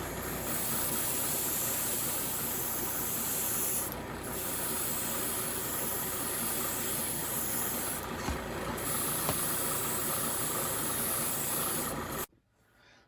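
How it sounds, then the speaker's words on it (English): An airbrush sprays tinted gunmetal-darkened aluminum paint onto model saucer rings, a continuous soft hiss held close by with two brief pauses before it stops. "I'm just going to airbrush that on to our rings."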